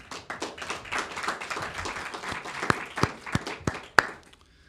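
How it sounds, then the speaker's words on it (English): Press club listeners clap for Emily Wilkins at a press briefing on the resumption of Jimmy Lai's trial, a brief scattered round of claps that thins into a few distinct, sharp claps near the end. "she deserves a round of applause for all the work she did to put together this center"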